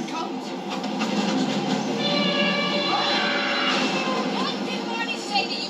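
A train rolls into a busy station in an animated Madagascar scene, a steady loud rumble of rail cars with clacking wheels and a high brake squeal building in the middle, ambient crowd noise underneath.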